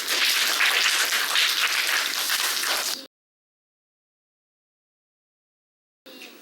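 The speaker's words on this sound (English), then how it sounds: "Let's give a round of applause." Audience applause at a library show: a loud, dense burst of clapping lasting about three seconds, then abrupt silence, before a short final flurry resumes.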